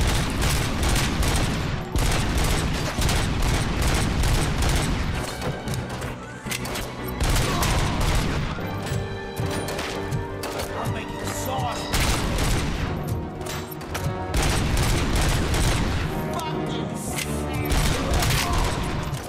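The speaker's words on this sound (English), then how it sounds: "Has he got a Gatling gun up there?" Rapid Gatling gun fire pours out in the video game Robocop: Rogue City, a dense, continuous mechanical rattle with booming impacts throughout and only brief dips.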